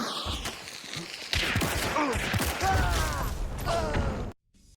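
Gunfire in Hunt: Showdown, with a rapid cluster of loud shots and mechanical clatter at a shooting range, followed by a sharp cutoff into near silence.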